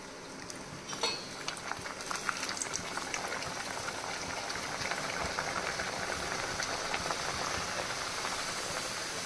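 Hot oil bubbles and sizzles steadily while poori fries in a kitchen, a continuous quiet crackling hiss with small pops, no voices.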